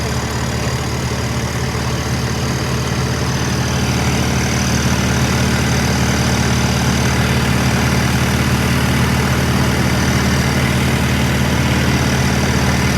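Tractor engine idling steadily on a farm while loading trolleys, a loud continuous low rumble with a dense broadband roar that holds constant throughout, close by and with no voices.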